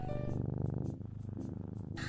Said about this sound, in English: It keeps playing the purring sound.